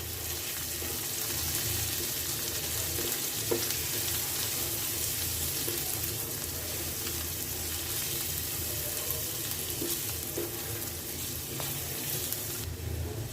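Green chili and salt sauté in a pan, part of cooking Malabar spinach with shrimp, producing a steady broadband sizzle throughout with occasional faint stirring knocks.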